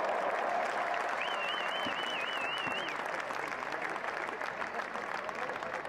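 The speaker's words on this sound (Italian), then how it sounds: "Signori, un bel applauso meritato" Crowd applause fills a sports hall in Trieste after a fight, steady and fairly distant, while an announcer's voice speaks over it and a brief whistle-like tone rises in the middle.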